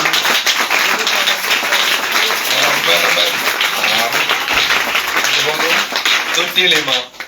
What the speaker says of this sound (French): Alors, est-ce qu'on peut donner des acclamations pour ça?